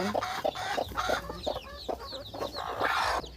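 Newly hatched native chicks, hatched in a homemade incubator, cheep in quick, high, overlapping peeps, several birds at once, close by amid light handling noise.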